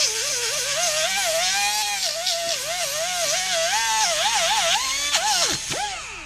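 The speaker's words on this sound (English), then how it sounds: "Here we're using a really rough steel grinding one to get all this rust out of here." A rough steel grinding disc on a power tool whines loudly against a rusty brake hub, its pitch wobbling up and down as the load changes, continuous and close, with no talk.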